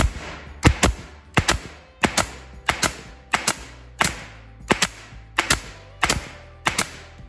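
A Metabo 18 gauge brad nailer fires in bump fire mode, giving a steady run of about ten sharp double-clack shots spaced roughly evenly, each with a pneumatic snap close by and no talking.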